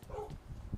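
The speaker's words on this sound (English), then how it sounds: "And I'm sorry about the dog" A dog at home gives a brief muffled yip or bark in the background, faint and under a moment of quiet room noise.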